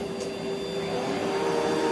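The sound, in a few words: vacuum cleaner powerhead running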